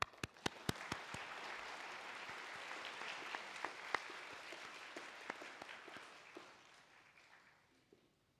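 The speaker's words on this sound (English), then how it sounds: "Please applaud." Quiet, distant applause fills a hall at a university graduation ceremony for linguistics graduates, with a few sharp individual claps standing out near the start before the clapping gradually fades away.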